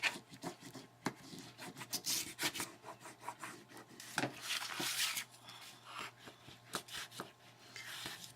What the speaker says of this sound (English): let's give them all a good burnish. Press them down.